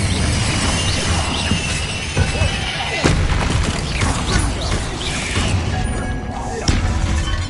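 Confringo blasting spell explosions in Hogwarts Legacy: a dense, continuous barrage of booming blasts and shattering crashes stays loud throughout, with spell effects layered tightly together.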